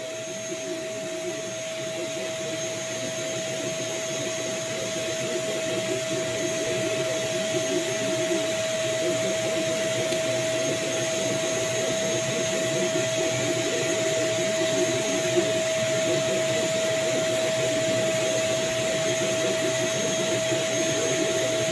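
A 3D printer runs steadily while printing a part, giving a constant whirring drone with a steady high-pitched motor whine and a faint rattling texture, close and unbroken throughout.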